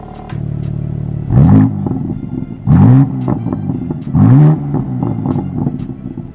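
A 2023 BMW M2 exhaust in its M2 mode, revved three times in quick succession with sharp rising blips over a loud, close idle rumble.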